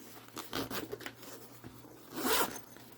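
A zipper pocket on a bag being unzipped, a few short rasping zip strokes at close range, ending in one longer, louder pull, with no talking.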